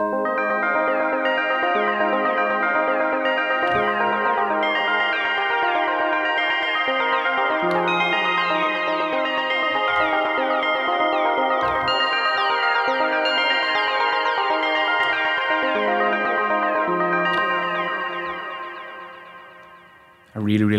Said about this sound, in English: I really like the LFO in the end when the sound fades out and the pitch wobbliness comes in.